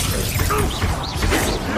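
Spell-casting effects in Hogwarts Legacy gameplay: a dense, continuous burst of magical blasts, crackling and shattering debris, loud and close, with swirling whooshes layered over a low rumble throughout.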